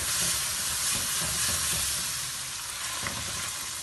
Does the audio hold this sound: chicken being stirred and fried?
yes